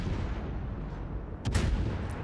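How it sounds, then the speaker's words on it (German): Naval gunfire from the German cruiser Graf Spee in the World of Warships game: a low rumbling backdrop broken by one loud, sharp salvo blast about midway through. "jetzt hier noch über die Insel gerade so drüber schießen"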